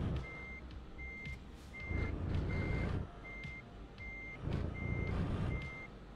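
A truck in Euro Truck Simulator 2, reversing through narrow Paris streets, emits a steady series of evenly spaced backup beeps over a low, rumbling engine that swells twice; fairly faint, with no talk.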